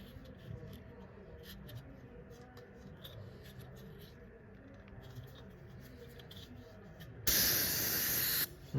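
Refrigerant hisses sharply from a can leaking while charging the air conditioning on a Ford 7600 tractor: a loud, steady spray bursts in near the end and lasts about a second over faint shop clatter.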